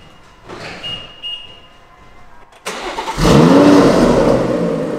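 A BMW M140i engine cranks and catches by remote start, then settles into a loud steady idle, after a few quiet clicks and a faint beep.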